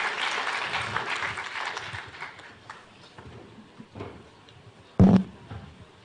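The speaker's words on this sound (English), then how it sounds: "A great round of applause and good luck to you," Applause from an audience at an ICAI Iconic Day celebration, dense clapping that fades over the first couple of seconds into quiet room tone, followed by a single sharp knock near the end.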